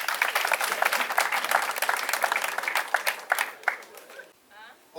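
Guests at a Gabonese customary wedding clap together in a dense, lively burst of applause that holds for several seconds, then thins and fades near the end, with some voices mixed in.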